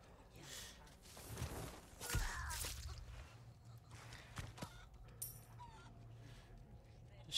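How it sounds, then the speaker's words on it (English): A chicken clucking and squawking in Resident Evil 4 Remake, a few short, fairly faint calls amid rustling footsteps and ambient game noise. "Shut up, chicken."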